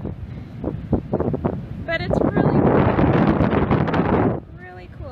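Strong wind on a beach roars and buffets the microphone in a steady broadband rush, swelling louder midway, while people talk over it.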